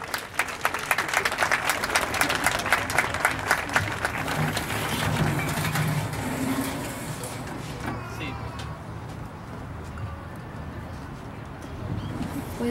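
Applause from a school audience at a rural primary school recital welcomes a sixth-grade girl about to recite a poem, dense clapping strongest early and fading out, with birds cooing in the background.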